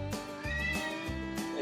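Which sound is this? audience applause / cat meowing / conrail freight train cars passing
cat meowing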